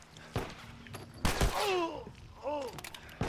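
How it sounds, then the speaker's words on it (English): Gunfire from a shotgun in The Last of Us Remastered: a few sharp, loud blasts and impacts in quick succession amid combat noise, with someone talking and reacting between shots. "Shotgun."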